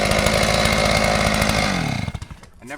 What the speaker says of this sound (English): You have the chainsaw left on and your foot is this far away from it.